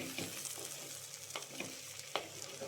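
Ivy gourd thoran stirred in a pan: a soft, constant sizzle broken by a few brief scraping strokes at uneven intervals, quiet and close, with no talking.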